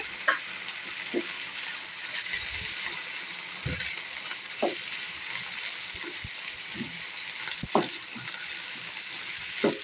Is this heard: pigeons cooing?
no